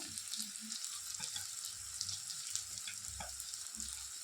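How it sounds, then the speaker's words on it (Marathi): Spices sizzling in hot oil in a pan while being stirred, a continuous faint crackle with soft scraping under it, no talk. "ह्याला भी हलवून घेऊया, चांगलं भाजलूया।"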